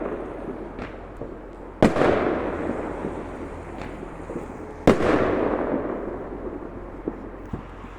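New Year's Eve fireworks going off outdoors, two loud booming bursts with long rumbling echoes plus a few fainter distant pops, heard from a street at middle distance.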